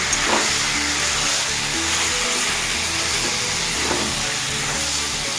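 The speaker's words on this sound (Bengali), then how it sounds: "ভালোভাবে আমি মশলাটা কষে নেব" Spice paste and jackfruit frying in a wok for jackfruit kalia, a steady broadband sizzle with faint stirring scrapes, continuous and close with no talk.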